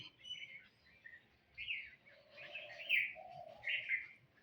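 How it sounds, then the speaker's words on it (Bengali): Several birds chirp in short, bright bursts against a quiet background, with a soft lower call mixed in between the tweets. "দেখো কত পাখি"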